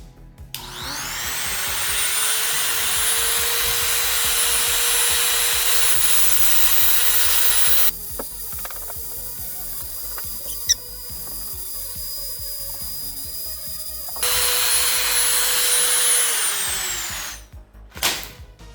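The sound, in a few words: Dremel rotary tool with stone bit sharpening knife blade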